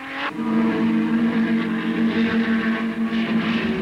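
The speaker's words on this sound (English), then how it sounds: "the battle for second position was between Graham Hill and a BRM, number 1, fighting it out with John Surtees' Ferrari" 1960s Grand Prix cars, a BRM and a Ferrari battling for position, roar past with a loud, sustained engine howl holding a steady high pitch, a brief swell at the start and near the end.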